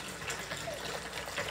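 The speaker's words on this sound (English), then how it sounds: "Now for my second water bottle, we're just gonna fill her on up." Tap water gushes steadily into a second drinking water bottle as it is filled up, a continuous close, hissing pour with no talking.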